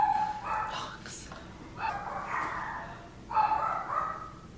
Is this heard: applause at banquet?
no